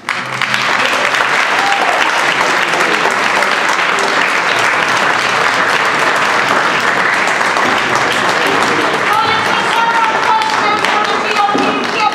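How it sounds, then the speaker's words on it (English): A large audience at a mayoral runoff debate applauds loudly and steadily, dense clapping sustained for several seconds with a few cheers near the end. "We just ask everybody for a really robust round of applause for this."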